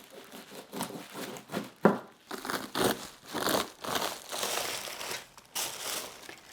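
Hands pull apart a fresh 8-pound napa cabbage for kimchi, giving repeated crisp crunching and tearing sounds, close and textured, in uneven bursts.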